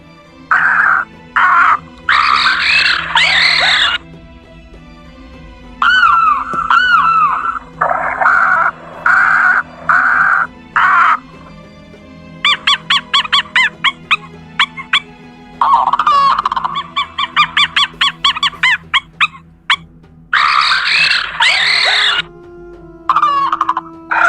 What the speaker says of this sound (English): Each bird, each creature makes a different sound.